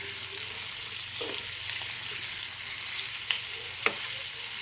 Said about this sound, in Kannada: ನೋಡಿ, ಪನ್ನೀರೆಲ್ಲ ಫ್ರೈ ಆಗಿದೆ ಚೆನ್ನಾಗಿ.